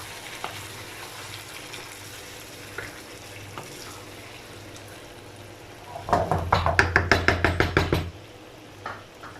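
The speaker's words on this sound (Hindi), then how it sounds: "अच्छे तरीके से मैंने जो है मिक्स कर लिया दही को चिकन के साथ" Chicken sizzling in a pan is stirred together with yogurt, a quiet steady fry broken by a fast run of about a dozen sharp utensil knocks against the pan.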